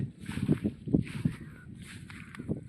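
Small wooden rowing boat moving on open water near riverside villages, with rhythmic splashes and creaks of oars roughly every half second, moderately close, with faint wind in the background.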